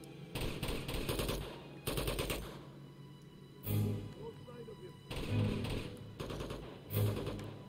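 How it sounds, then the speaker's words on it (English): Bursts of automatic gunfire from Elena in the video game Uncharted 2: Among Thieves, several loud rattling volleys separated by short gaps, with heavy thuds, and a person talks between them. "What is Elena shooting at?"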